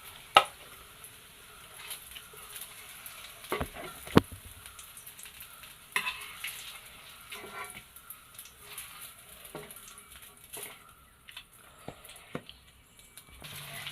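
Pumpkin pieces frying in oil, with a faint, steady sizzle broken by scattered clicks and scrapes of stirring, heard close and alone.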